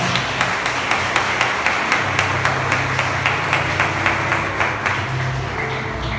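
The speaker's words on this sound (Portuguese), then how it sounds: "Aplauda o Senhor," A church congregation claps along in a steady, evenly spaced rhythm, loud and close, over a low sustained background hum, with no talking.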